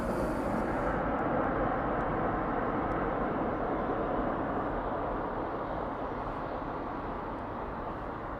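A Ryanair airliner taxiing at East Midlands Airport gives off a loud, steady jet engine roar that holds constant throughout with a broad rumbling wash and no voices.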